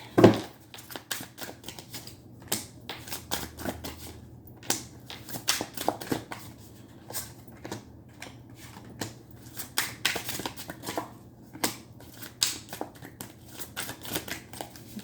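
A plain tarot deck is shuffled by hand, giving rapid, crisp card snaps and riffles in irregular bursts over about fifteen seconds, close to the listener and with no talking.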